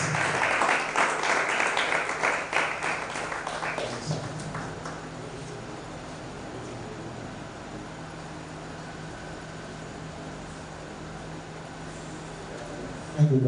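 An audience at a creative writing bootcamp claps for about four seconds, then the applause fades into quiet room tone with a faint murmur.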